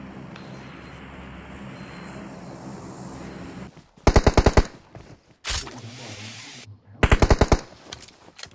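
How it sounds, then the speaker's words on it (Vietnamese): An M4 rifle in a mobile battle-royale shooter fires two fast, loud bursts of automatic gunfire separated by a short thud, after a stretch of quieter ambient game noise. "Sẽ phát hết đạn luôn."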